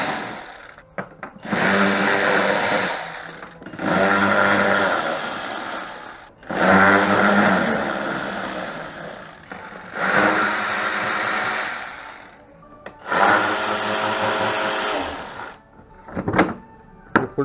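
Power tool driving out the six bolts on the fan shroud cover of a Kia Mohave, heard as loud close whirring bursts of a few seconds each, separated by short pauses.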